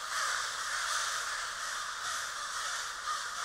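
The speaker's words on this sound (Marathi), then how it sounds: "त्याच रानातल्या कावळ्यांसारखं" Several crows caw steadily and fairly loudly across a rural wild setting, the harsh calls overlapping in a continuous chorus with no pauses, like an eerie effect in a Marathi ghost story.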